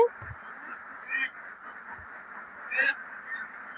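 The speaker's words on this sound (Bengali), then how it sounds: "হাঁসগুলা ডিম পারছে ডিম উঠাইছে" Laying ducks on a river char farm in Bangladesh quack in two brief bursts over a continuous low background murmur of the flock, moderately close, with no clear voices.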